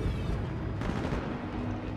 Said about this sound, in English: Why are we already shooting?